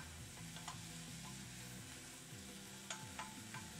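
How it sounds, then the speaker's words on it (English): Mushrooms sizzling as they fry in a pan, a faint, steady crackle with a few light scraping stirs, heard quietly and close by. "Now, it's still sizzling, so I'm still gonna let it do its thing before I add anything else."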